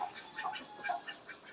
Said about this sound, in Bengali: এগুলো বড় চিনা হাঁস